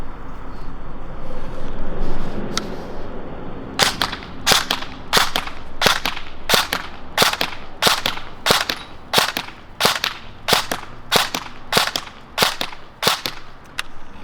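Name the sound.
Krytac KRISS Vector airsoft AEG shooting BBs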